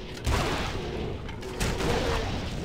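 A cannon fires in the action role-playing game Torchlight 2, giving a pair of heavy booming blasts with noisy crackling between them amid busy game sound, with no voices on top.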